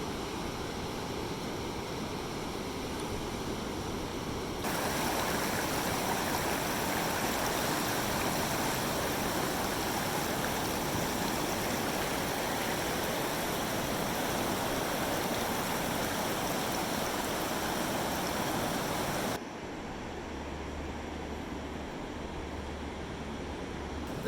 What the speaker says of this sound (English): they're actually pumping out water from Oceanside Harbor and putting it onto the beach right here